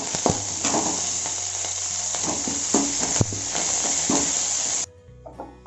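Curry leaves and asafoetida sauté in hot oil for a tempering, giving a steady, close sizzle with scraping stir clicks that cuts out near the end.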